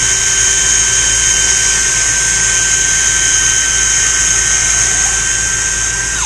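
A power drill spins a part for a gas-powered model rigger build, whirring steadily at high speed, a continuous loud whine with a sharp tonal hum that cuts off abruptly at the end.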